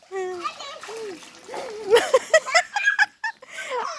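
A voice chatters and squeals over quick bursts of splashing water in a small pool, close by, with short playful splashes clustered in the middle.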